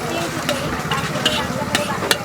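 Poha being stirred in a pan at a Pune street food stall: repeated scraping spatula strokes over a steady sizzle, with background voices and traffic noise.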